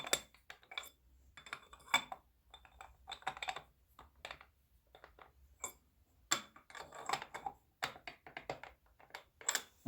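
Carburetor float bowls for a Suzuki GS550 are test fitted, a close, quiet series of small metallic clicks, taps and light clinks in irregular bursts over a faint low hum.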